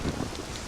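Rain and thunder in Zelda: Ocarina of Time, a brief, steady wash of rainfall with a low rumble, moderately loud and alone without talk.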